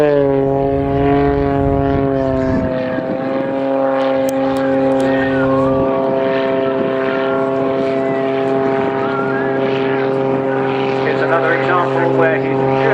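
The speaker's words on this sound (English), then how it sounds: "He's hovering this aircraft now very unnaturally." A Pitts Special aerobatic propeller biplane performs a hovering display at an airshow, its engine drone holding steady and loud with strong harmonic tones, under a commentator talking throughout.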